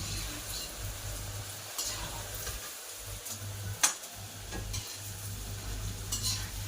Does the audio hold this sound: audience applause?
no